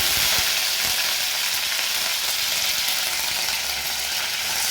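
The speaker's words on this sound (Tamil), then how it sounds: "வானலில் எண்ணெய் வச்சுருக்கேன், கருவேப்பிலை போட்டுக்கிறேன்" Curry leaves sizzle in hot oil in a pan while starting a drumstick and potato masala: a loud, steady, crackling fry that runs without a break and with no talking.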